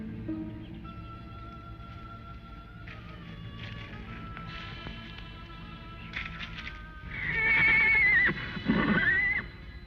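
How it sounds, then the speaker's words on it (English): Horses neighing in a 1950s western television scene, a loud shrill whinny rising late after quieter background music and ambience, followed by a second shorter whinny. "Go out and see what's bothering the horses."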